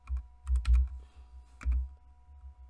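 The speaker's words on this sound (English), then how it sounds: "we're going to go ahead and type output" Code being typed on a computer keyboard while writing a Python Discord bot: a short run of close, uneven key taps with a few heavier presses, with no talk over it.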